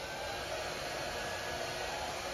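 A built-in hotel hair dryer runs steadily at Disneyland Paris's Grand Magic Hotel, giving a constant, even whoosh of blowing air with no pauses.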